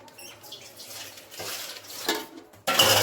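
A lid goes onto a pot of chicken biryani layered with potatoes, chicken, rice and ghee and set on a tawa, closing with a sharp metallic clatter after soft kitchen handling noises.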